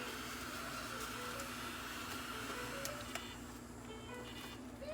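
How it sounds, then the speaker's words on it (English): A vacuum cleaner drones steadily in a room throughout, a constant broadband whir with a low hum, loud and unbroken with no clear speech over it. "I'm sorry if that vacuum noise is bothering you."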